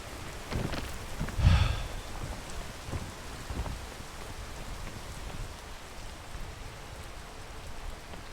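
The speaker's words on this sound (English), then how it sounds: "And here we are with the immediate rain." Steady rain in the video game PEAK, a soft, even hiss with scattered drop impacts and a brief louder thump near the start, faint and continuous throughout.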